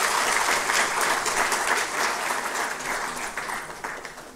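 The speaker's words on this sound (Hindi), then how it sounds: "एक बार जोरदार तालियां उपस्थित सभी महिलाओं के लिए।" Audience at a rural women's day event gives a loud round of applause, dense even clapping filling the whole stretch with no talk over it.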